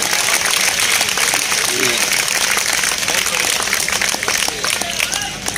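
Crowd at a comedy poetry show in a Rajnandgaon market square claps in a dense, continuous burst, fairly loud and even, with scattered voices mixed into the noise.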